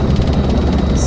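Steady, loud rotor and turbine drone from a helicopter in a desktop flight simulator game, a continuous even hum with no break.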